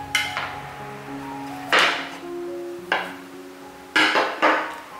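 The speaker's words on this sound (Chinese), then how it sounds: "取一个面团，用一个盘子把它压扁" A plate is pressed down onto a ball of dough to flatten it, giving several knocks and clinks of the plate against a hard surface, spaced a second or so apart, close and fairly loud.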